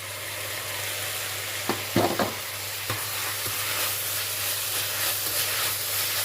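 Onions and tomatoes fry in a pan for Chettinad vada curry, giving a steady close sizzle with a few sharp clinks and scrapes of stirring near the start.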